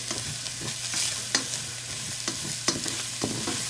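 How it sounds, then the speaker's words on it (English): Onions and peppers sizzle in a skillet, a steady broadband hiss with scattered clicks and spatula scrapes from stirring, close and moderately loud with no talking. "onions and our peppers sweat just a little bit before we add everything else"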